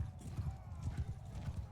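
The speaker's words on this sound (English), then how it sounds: "Let's go catch him on the horse." Horse hooves clip-clop at a steady trotting rhythm in Mount and Blade 2 Bannerlord, soft and fairly close, with faint background game ambience.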